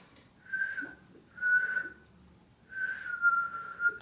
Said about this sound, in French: Donc ces temps-ci, j'essaie de siffler.